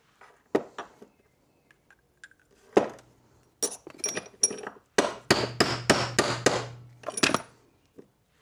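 Metal hammer blows on a drift seating a Morris Marina propshaft centre bearing in a workshop: a few scattered strikes, then a quick run of about six ringing, evenly spaced hits, close and loud, with no talk.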